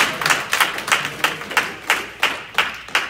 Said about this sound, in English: Let's give Minister John Thompson another round of applause.